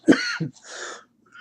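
A man with a lingering week-long cough gives a few short, rough coughs close to the microphone, two quick hacking bursts followed by a breathy rasp, then quiet.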